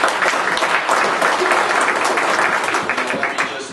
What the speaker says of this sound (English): Now, does that deserve a little applause?